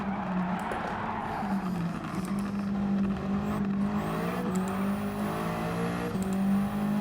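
A Lancia Delta HF Integrale rally car in Gran Turismo 7 drones under sustained throttle, with a loud steady engine note that rises and dips slightly through gear changes and cornering.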